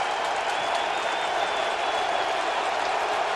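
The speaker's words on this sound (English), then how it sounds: "Now the crowd is into it." A stadium crowd roars and cheers at a 2016 Detroit Lions vs Indianapolis Colts NFL football game, a dense, steady wash of noise holding for the whole stretch without letup.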